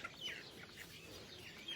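Chicks raised by a Cayuga duck cheeping outdoors, a few high, thin chirps scattered over a quiet background, faint and somewhat distant.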